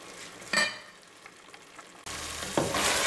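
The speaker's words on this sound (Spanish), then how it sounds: "aquí 6 minutos de freír aquí la salsa. 6 minutos que está aquí hirviendo la salsa" Red chile sauce for a lentil soup fries and sizzles in a pan, a steady close crackle that swells louder partway through, with a couple of brief scraping stirs.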